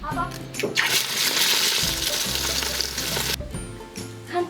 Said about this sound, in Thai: ขั้นที่สามนะลูกพอน้ำมันเดือด เราก็ตอกไข่ใส่ลงไปได้เลย